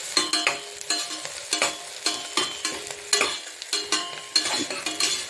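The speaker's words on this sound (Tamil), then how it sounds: "நம்மளுக்கு வெங்காயம் இந்த அளவுக்கு வதங்கிட்டு வருது." Onions sauté in a pan for vegetable pulao, with a steady sizzle broken by repeated scraping, clinking stirs of a utensil against the pan, close up and with no talking.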